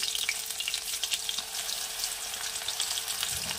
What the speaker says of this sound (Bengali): এইভাবে এটাকে আমাকে লো হিটে ভাজতে হবে